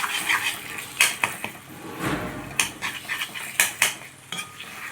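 Metal spoon scraping and clinking against a pan while ginger garlic paste is stirred into stuffed brinjals, sharp irregular knocks and scrapes close up, with no talk.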